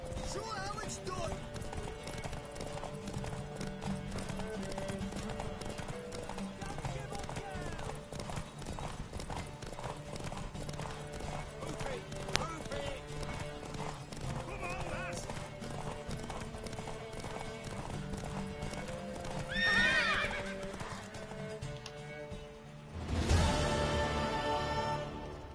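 Horse hooves clip-clop steadily throughout in The Witcher 3, with an occasional whinny, set against a continuous music score and game voices talking, plus a brief louder burst near the end.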